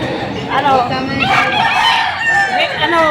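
A Gold Crusaili gamecock crows loudly and close by, one drawn-out cock-a-doodle-doo, with people talking in the background.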